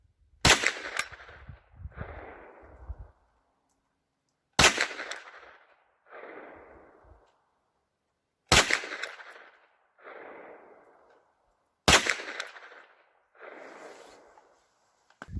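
Four loud pistol caliber carbine gunshots, each fired over a chronograph, arrive in pairs about four seconds apart: a sharp crack followed about a second later by a fainter burst. No one speaks.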